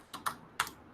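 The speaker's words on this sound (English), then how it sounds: "there's no quickly typing that word" A few sharp keystrokes on a computer keyboard: three quick, close clicks within about a second, fairly quiet, with no voices.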